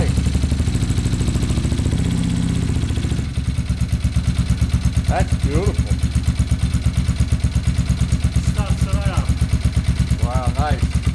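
A Kawasaki ZX-9R motorcycle engine idles steadily and close by with a fast, even pulsing beat that shifts slightly after a few seconds. Voices speak briefly over it.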